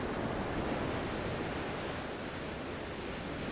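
Sea waves wash steadily onto a shore in a continuous broad roar of surf, with some wind buffeting and no voices.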